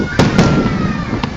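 Several firework reports crack in quick succession at a pyrotechnics competition at the Mall of Asia, then one more a moment later, against a continuous rumbling background.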